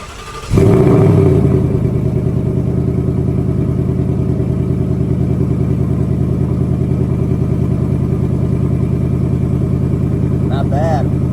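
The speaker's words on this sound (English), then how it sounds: "Sounds pretty decent cold start." A 2019 Mustang GT with a Corsa Extreme exhaust fires up from cold with a loud bark, then settles into a deep, steady, throbbing V8 idle that runs on close and unbroken.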